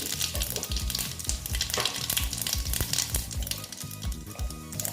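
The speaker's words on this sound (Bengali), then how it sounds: "তেলটা গরম হয়ে গেছে এখন আমি ফোড়নে দিয়ে দিচ্ছি দেখো গোটা জিরে" Whole cumin seeds hit hot oil as a tempering for besan bhindi, giving a dense, continuous crackling sizzle heard up close. Small pops and low bumps scatter through the hiss without pause.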